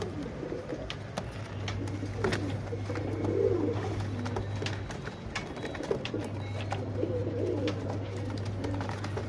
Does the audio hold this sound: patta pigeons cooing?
yes